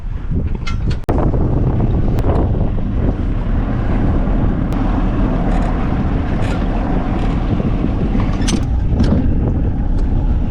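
An outboard motor on a repaired bass boat runs steadily on the water, a close, continuous rumbling drone with wind buffeting the microphone and a brief dip near the start, no voices.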